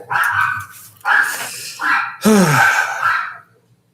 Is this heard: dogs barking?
yes